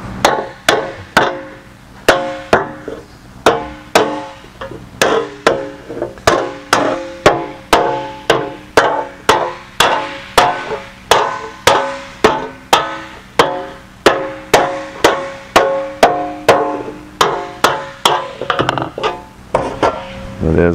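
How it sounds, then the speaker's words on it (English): A planishing hammer strikes an aluminum Jaguar E-Type bonnet panel in a steady, fast rhythm, each sharp metallic blow ringing briefly, continuing for the whole stretch with a short pause near the end. "when we hit it with the compression stretch, either on the planishing hammer or the English wheel"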